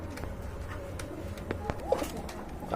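Pigeons at a bird market give low, soft coos amid a busy background murmur, with a few brief louder calls and knocks.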